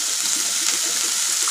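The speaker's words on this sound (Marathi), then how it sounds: "थोडं पाणी टाकून" Cold water is poured into a hot frying pan during home cooking, making a steady, loud hissing gush with a bright sizzle that continues without pause and no talking.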